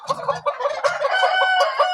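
Chickens sitting on eggs in a poultry farm near Sambhajinagar cluck continuously and fairly loudly, with overlapping, busy calls and no talking.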